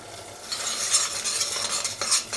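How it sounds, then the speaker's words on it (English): Curry of eggplant and plant-based mince with turmeric, cumin, coriander powder and salt simmering in a pan, a steady close sizzle with soft stirring scrapes that swell and fade, no voices. "Let this simmer, it becomes a lovely color with all the spices and the turmeric."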